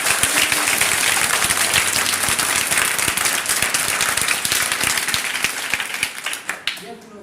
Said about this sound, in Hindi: इनके लिए आप लोग एक बार जोरदार ताली बजाइए।